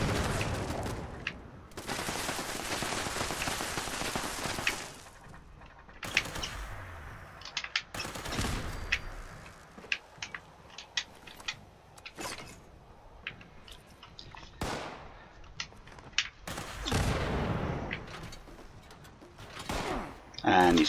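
Repeated crackling bursts of weapon fire and explosions from an exploding Tesla rifle in the Fallout 76 video game come in irregular clusters over busy game sound, with a voice talking throughout.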